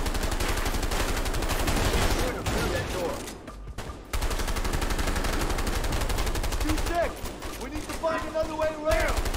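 Gunfire rattles through a co-op shootout in the video game A Way Out, with dense bursts and repeated shots running nearly the whole time, dipping briefly mid-way, while voices talk over the action.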